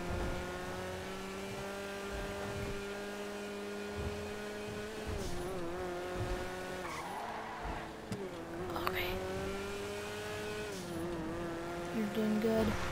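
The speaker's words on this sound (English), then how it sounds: "Do a little street racing activity." In a GTA V street race, a video-game race car's engine drones steadily and fairly quietly. The pitch climbs through gear changes, with brief dips and surges.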